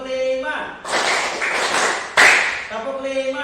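A classroom of students claps a rhythmic pattern together, a burst of sharp group claps with a couple of accented beats, framed by voices talking before and after.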